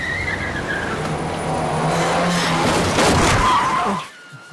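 A car in a film scene approaching and growing louder, its engine and tyre noise rising to a peak, then cutting off abruptly into near silence.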